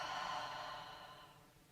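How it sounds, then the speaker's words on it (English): A slow breath exhaled out through the mouth during a guided yoga flow, a soft airy whoosh that fades gradually over under two seconds, close and quiet, with no talking. "And exhale out through the mouth."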